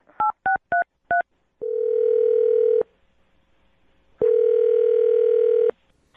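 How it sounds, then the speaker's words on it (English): Touch-tone telephone dialing a number: four short, separate keypad beeps in quick succession, then two long, steady ringback tones with a gap between them, clear and close with no voices. "I'm going to dial her phone number right now"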